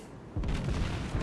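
An enemy ship detonating in the World of Warships naval game, heard as a sudden deep boom that swells into a sustained low rumbling roar lasting about a second.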